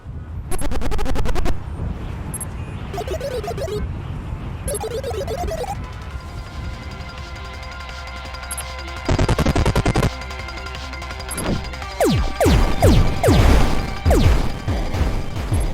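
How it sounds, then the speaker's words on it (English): A hover tank attack in the game Lazr, loud bursts of automatic gunfire and crashing impacts, alternating with a steady engine-like drone and electronic tones, intensifying into a dense barrage near the end. "This is when the hover tank attacks"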